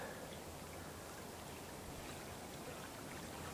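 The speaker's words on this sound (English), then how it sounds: "The river here." A faint, steady rush of flowing river water, even and continuous with no voices.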